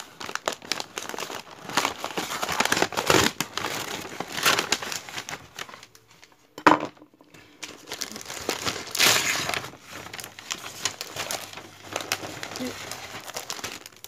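Unicorn-themed scrapbooking paper from an advent calendar crinkles and rustles close up in irregular bursts, with a short quiet gap midway. A voice speaks softly over parts of it.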